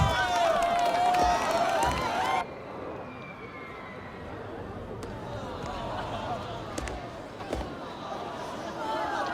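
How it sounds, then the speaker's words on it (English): Crowd cheering from a water park in the Planet Coaster 2 theme park game, a dense steady wash of voices that is louder for the first two seconds, then settles into a lower background murmur. "I don't know what all that cheering there is."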